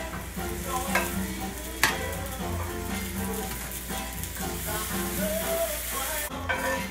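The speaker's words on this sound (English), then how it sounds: "now we've seared both sides of these potatoes about 5 minutes" Potatoes sear and sizzle steadily in a hot pan, a continuous close frying hiss with occasional stirring clatter and a sharp clink, no talking.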